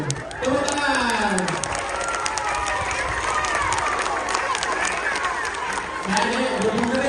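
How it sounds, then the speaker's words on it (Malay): Applause from a crowd at a fire drill, a burst of clapping and cheering that swells and then carries on with lively chatter and voices mixed in. "Tepuk tangan."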